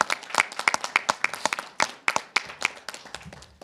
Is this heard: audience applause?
yes